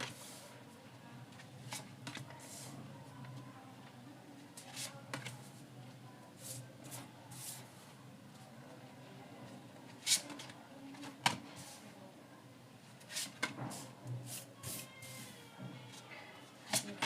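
Tarot cards being shuffled and drawn by hand at close range, soft papery riffles and flicks in irregular clusters with sharper slaps now and then over quiet room tone.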